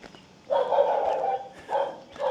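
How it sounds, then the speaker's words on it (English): A dog barks in a village in China, three short separate barks spaced apart, moderately close and loud against a quiet background. "Oh, the happy dog."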